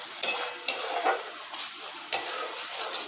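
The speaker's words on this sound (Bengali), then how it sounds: "এটা একটু ভালো করে কষিয়ে নেব।" Spices stir-fried in hot oil in a pan for a paneer dish give a steady bright sizzle, with a few scraping strokes of a spatula against the pan.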